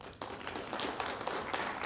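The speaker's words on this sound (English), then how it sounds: "Can we get a round of applause for her?" Applause at a Las Cruces city council meeting honoring a clerk's certification, a quiet, fairly distant patter of hand claps from a modest crowd in a meeting room, brief and steady.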